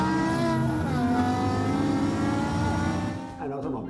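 Multi-cylinder car engine revving hard, a loud sustained high-pitched wail with rising and falling pitch that drops off near the end, with a person talking over it.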